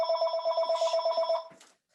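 A mobile phone rings in a lecture hall, a quick run of pulsing electronic tones about a dozen times in a row, fairly close and clear, then it stops abruptly.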